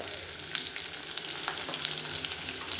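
Dried red chilli, crushed garlic and a pinch of asafoetida sizzle in hot oil for mango dal, a close, crackling fry with sharp pops and the scrape of stirring.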